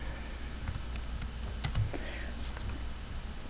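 Typing on a computer keyboard, a string of soft, uneven key clicks near at hand and fairly quiet, with a faint low voice under the tapping.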